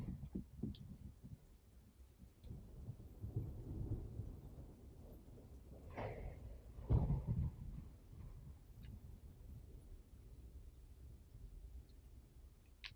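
Thunderstorm in the video game World's Dawn: low rolling thunder with a couple of louder cracks in the middle, fairly faint over steady rain-like noise.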